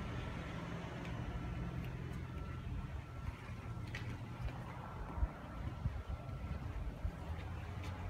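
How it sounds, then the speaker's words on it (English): Faint, distant road traffic rumbles as a steady low hum beneath an open outdoor garden and grassy area, with no voices. "You can hear a little bit of traffic, but you can't see it."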